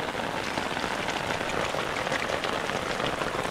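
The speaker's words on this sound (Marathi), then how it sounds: "मजबूत पाऊस आहे मजबूत" Heavy rain pours down in a steady, dense hiss of drops striking surfaces, loud and unbroken throughout.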